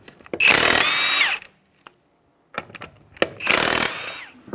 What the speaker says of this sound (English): We'll go ahead and take off our lug nuts now.